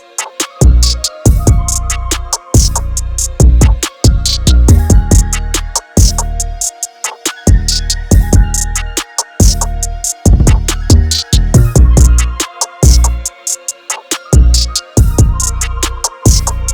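A full trap beat made in FL Studio, with heavy kicks and deep 808 bass under rapid hi-hats, claps and an open hat. It plays as a dense, continuous loop for about seventeen seconds, loud and close, with no talking.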